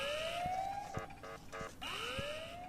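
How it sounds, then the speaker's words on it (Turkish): An alarm siren in the horror video game Ice Scream 4 wails in rising, sweeping tones, broken midway by a run of short pulsed beeps, then sweeps up again, fairly quiet and with no voices over it. "alarm çalışınca tabii gelecekler arkadaşlar"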